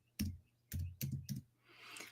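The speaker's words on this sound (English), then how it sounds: "when I'm typing on the keyboard, it sounds like I'm pounding it" Computer keyboard typing picked up by a nearby microphone: four or five quiet, thumping keystrokes in an uneven rhythm over a faint steady hum, with no voices.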